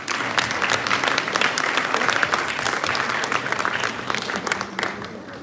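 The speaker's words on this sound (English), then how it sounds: "Can I have a round of applause for you all" A quiz audience at a Founder's Day weekend event claps in a sustained round of applause, dense and even, holding steady before easing slightly at the end.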